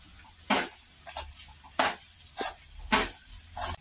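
Schezwan fried rice being stirred in a frying pan, a spatula scraping in several distinct bursts over a soft sizzle, close and clear with no talking.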